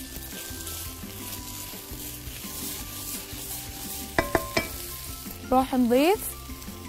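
Vegetables, including red ones, sizzle steadily in a hot pan while being stirred, with sharp utensil scrapes and clinks toward the end and a brief spoken phrase early on.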